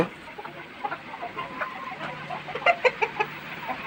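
Farm chickens cluck in scattered short bursts, a few sharper calls clustering near the end, amid a steady low background murmur on a poultry farm.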